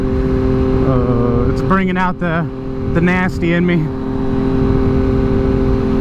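A car with a new aftermarket exhaust drones steadily while driving, its low rumble running continuously beneath someone talking excitedly.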